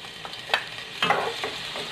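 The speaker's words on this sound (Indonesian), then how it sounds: "yang pertama saya mau masukkan bawang putihnya" Garlic being sautéed in a frying pan for shrimp in tomato sauce, with a soft sizzle under a few quick scraping stirs of a spatula, close and fairly quiet.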